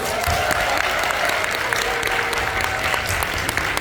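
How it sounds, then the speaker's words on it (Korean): Seminar audience applauding steadily and loudly throughout, a dense continuous wash of many hands with a faint voice or tone running underneath. "박수 쳐줘, 박수."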